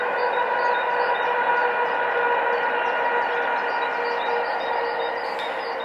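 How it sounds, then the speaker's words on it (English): A train on a Great Western Railway main line rumbles past steadily, a loud sustained roar of wheels and engine with a droning horn-like tone holding throughout. "There's a train going past now."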